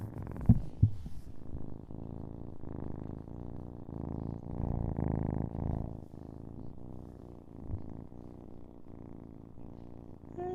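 A cat purrs steadily up close, a low rhythmic rumbling throb that runs the whole time, with a few brief bumps or handling noises near the start.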